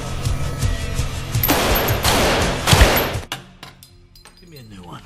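Rapid bursts of gunfire crack out at a shooting range in an action film, a dense volley lasting about two seconds before fading into quieter clinks.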